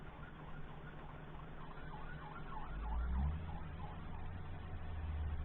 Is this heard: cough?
no